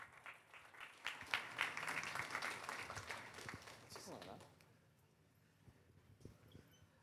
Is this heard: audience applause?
yes